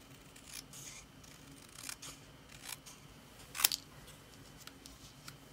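Paper snips cutting a strip of cardstock for a handmade card, a few quiet crisp snips followed by one louder sharp cut, close and alone in a quiet room.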